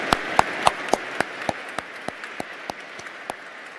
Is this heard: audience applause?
yes